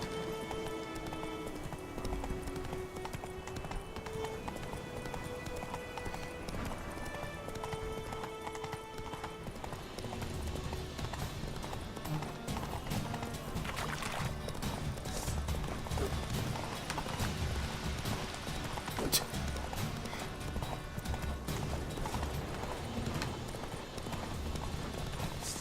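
Horse hooves galloping in the video game Witcher 3, a steady rapid clip-clop over layered game music and ambience, continuous and fairly loud throughout.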